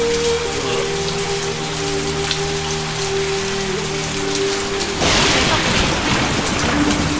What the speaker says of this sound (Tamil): ஒரே மின்னலும் மழையுமா இருக்கு.